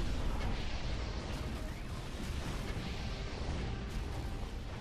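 Cannon tower explosions from the strategy video game Defense Grid 2 sound as a dense, continuous barrage of booms and blasts that stays loud for the whole stretch.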